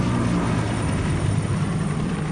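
Helicopter in the video game Stalker 2, a continuous loud rotor-and-engine drone with a low throbbing hum that stays steady and close the whole time, with no talk over it.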